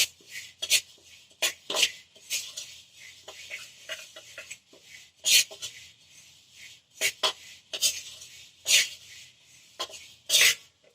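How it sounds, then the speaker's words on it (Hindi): Sesame seeds stirred in a hot kadhai for barfi, a dry scraping rasp repeating in short irregular strokes, close and fairly quiet, with no talk. "तो अब हम अपने तिलों को रेगुलर चलाते रहते हैं, जिससे कि क्या है कि ये नीचे लगे ना"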